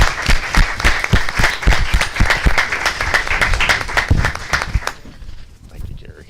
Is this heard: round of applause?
yes